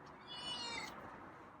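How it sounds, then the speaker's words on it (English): A feral cat gives one faint, drawn-out meow, soft and somewhat distant, against a quiet background. "So Scruffy's meowing"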